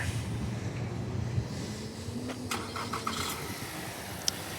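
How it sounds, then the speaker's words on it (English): A 2021 Nissan Altima SR is remote-started, its engine turning over and settling into a steady idle. The start is muffled and moderate in level, with a few faint clicks from the car. "Then we're going to go ahead, remote start it."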